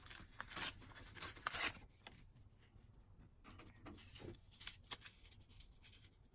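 Paper being snipped with scissors at a crafting table while assembling a junk journal, a few quick crisp cutting bursts early on followed by quieter rustling and soft handling sounds, close and fairly faint.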